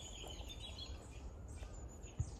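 Faint, scattered bird chirps and tweets drift over a low outdoor wind rumble at an allotment plot in mid September, with no talking.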